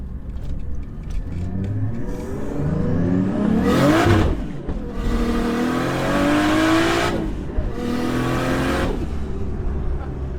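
A turbocharged Nissan Skyline engine drones loudly and steadily from inside the car while driving, with revs climbing in repeated surges and brief dips between pulls.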